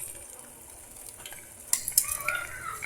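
Salted milkfish (dinaing na bangus) frying in a pan: a steady, soft sizzle throughout, with a few sharp utensil clinks and brighter spattering crackles in the final second.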